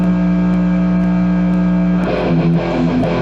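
Distorted electric guitar chords ring out with crunchy sustain, the strumming changing partway through.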